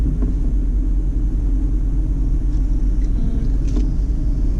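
A car creeps forward slowly into a parking bay during a driving lesson, heard from inside as a steady, loud low engine and road rumble with a few faint clicks.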